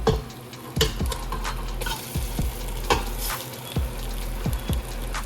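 Tomatoes hit onions already frying in a pan for a potato bajji dish, giving a continuous close sizzle with repeated spoon knocks and scrapes against the pan at an uneven rhythm.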